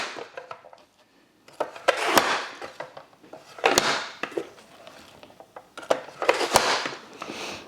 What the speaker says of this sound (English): Okay, I'm gonna chop these up.